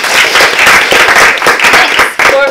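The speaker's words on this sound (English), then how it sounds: "Give her a round of applause." An audience at a Toastmasters club meeting gives a round of applause: dense, loud, continuous clapping from many hands that dips briefly near the end, then resumes.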